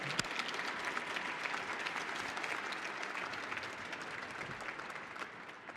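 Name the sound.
audience round of applause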